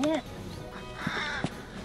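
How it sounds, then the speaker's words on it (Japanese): Crows cawing and squabbling on a golf course, with a few harsh caws up front and further raspy calls later, heard behind nearby talk. "カラス喧嘩。"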